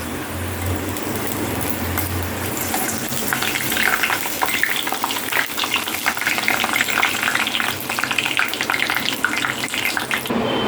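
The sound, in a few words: papad (appalam) frying in oil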